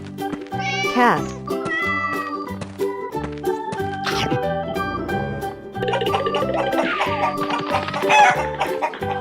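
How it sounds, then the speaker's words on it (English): A cartoon cat meows a few times amid a lively children's animal-sound song, the cries rising and falling over steady music, with a rooster-like cluck mixed in and voices present. "Cat."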